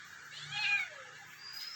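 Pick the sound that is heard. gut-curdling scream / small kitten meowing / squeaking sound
small kitten meowing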